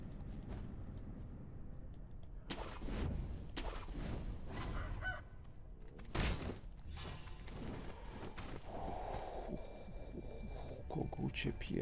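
In the video game Sekiro, a rooster crows as a faint, tinny call within game audio, beneath someone talking over the gameplay.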